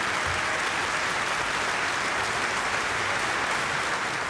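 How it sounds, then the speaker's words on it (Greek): Standing delegates at a party congress give sustained applause, a dense, steady roar of many hands clapping with no pauses and no voices above it. "Όρθιοι σύνεδροι τον χειροκρότησαν για αρκετά λεπτά μέχρι να αποχωρήσει από το χώρο."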